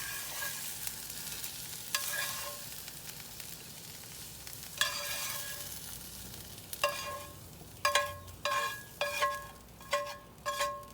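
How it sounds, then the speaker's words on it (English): Summer squash fries in a pan, with a steady hiss of hot oil and a run of sharp scraping stirs in the latter half, close and fairly quiet. "That right there is your old-timey way to fry your summer squash."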